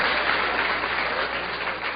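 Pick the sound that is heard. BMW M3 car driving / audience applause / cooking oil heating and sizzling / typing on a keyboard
audience applause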